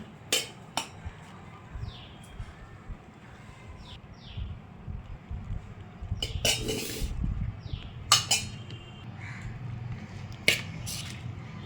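Cooled rice being mixed with drumstick leaf thuvaiyal in a dish, sounding as intermittent close clinks and scrapes of a utensil against the vessel over soft mushy stirring, irregular and moderately loud.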